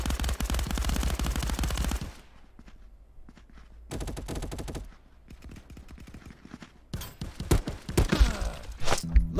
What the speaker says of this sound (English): Look at this dude shooting through the vending machine.